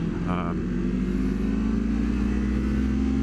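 A modified motorcycle fitted with velocity stacks idles and runs close by, a steady low throbbing engine with a rough, pulsing texture and a short higher whine near the start.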